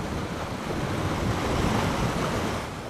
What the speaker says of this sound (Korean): 저 설산 눈 녹은 물이 이 협곡 따라서 엄청난 속도로 쏟아져 내려가고 있습니다